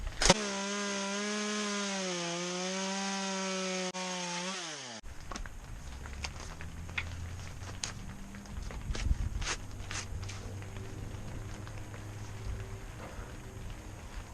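A chainsaw runs at a steady high revving whine for several seconds, then cuts into wood carving a skull's face, the tone turning rough and choppy with clunks and scraping, loud and close throughout.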